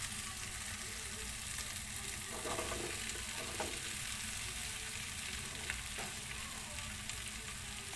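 Cauliflower frying in a pan for vegetable biryani, a steady broadband sizzle that runs without a break, with faint stirring clinks now and then over the crackle.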